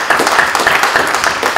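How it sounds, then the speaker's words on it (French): An audience applauds its partners at an academic innovation event, a loud burst of dense clapping from many hands that runs without a break. "Je pense qu'on peut les applaudir aussi."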